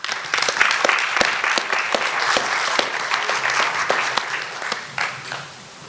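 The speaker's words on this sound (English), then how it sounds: "let's bring her out with a big round of applause." A crowd at the Caring for the Kenai oral presentations welcomes a presenter with lively, sustained applause, many hands clapping together at an even level, with a few sharper claps standing out near the microphone.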